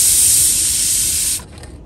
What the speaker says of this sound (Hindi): और ये भाई कुकर भी मारने लग गया सीटियाँ